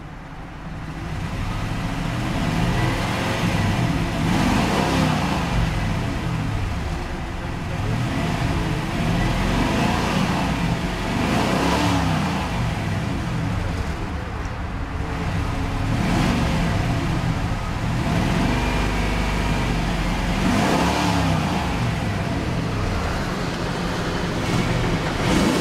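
A 1994 Cadillac Fleetwood Brougham engine runs with a steady, close, low rumble, swelling repeatedly as it is revved at regular intervals.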